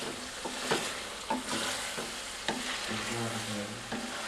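Chicken fries and is stirred in a karahi for koila karahi, with a steady sizzle under a spoon that scrapes the pan in repeated strokes and clinks at intervals. No one speaks.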